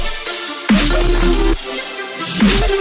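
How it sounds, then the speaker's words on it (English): A choir layer from a Citrus synth preset in a melodic dubstep chord progression swells as airy, sustained vocal-like chords, with each chord change landing on a deeper pulse and washing loudly into the next. "I added a choir layer."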